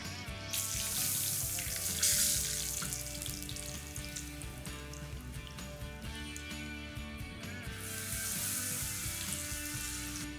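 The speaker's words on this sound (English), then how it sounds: "So we're done frying up the wild boar cutlets." Battered wild boar cutlets fry in oil at around 350 to 360 degrees, giving a steady close sizzle and crackle with bright hissing swells near the start and end.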